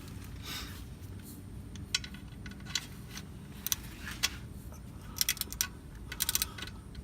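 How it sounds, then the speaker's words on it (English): A torque wrench tightening the oil drain plug of a 2016 Ford Mustang EcoBoost to 19 foot-pounds makes a series of sharp, close clicks scattered over a steady low background hum. "You should hear it click."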